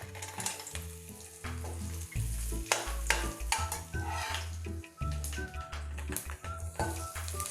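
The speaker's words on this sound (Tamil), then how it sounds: "தாளிக்கிறதுக்கு எடுத்து வச்சுருக்கிற பொருளெல்லாம் அதில் போட்டோம்." Spices and curry leaves splutter and sizzle in hot groundnut oil in a kadai, with a spoon stirring and scraping against the metal pan, close and steady with crackling bursts.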